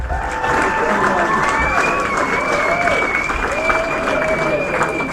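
Comedy club crowd at Yuk Yuk's applauds and cheers for comedian Irwin Barker, a loud, sustained wash of clapping with whoops, and a voice speaking over it.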